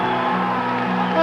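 Football stadium crowd roaring and cheering right after a goal, a dense, steady wall of voices with a few whoops rising near the end of the brief stretch.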